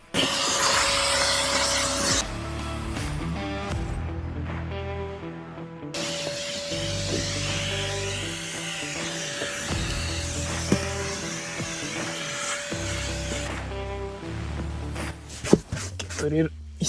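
A vacuum cleaner whines steadily while a car interior is cleaned after winter, loud and close. The nozzle's pitch shifts as it moves over surfaces, and the motor cuts out and restarts partway through.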